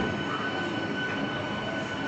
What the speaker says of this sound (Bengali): এমনি লোকাল ট্রেন